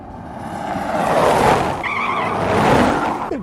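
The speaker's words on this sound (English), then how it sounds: "suddenly, they were overtaken by a speeding car." Speeding car overtaking on a dark road at night, a loud close tire skid and squeal that swells twice as it rushes past, no voices.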